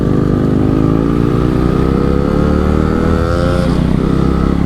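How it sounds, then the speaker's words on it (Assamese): A motorcycle engine thrums close by while riding, its pitch rising slightly as it accelerates near the end. "চাউণ্ডটোৰ কাৰণে মানে বাইকখন চলাই ভাল লাগিছে এতিয়া"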